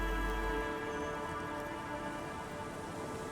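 Rain falls steadily in the video game Disco Elysium, a constant dense patter of drops hitting surfaces with no pauses and no voices.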